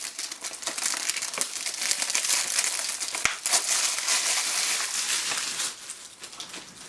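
Plastic wrapping on a haul of manga and anime packages being sliced and torn open, with steady close crinkling and crackling throughout and one sharp snap partway through.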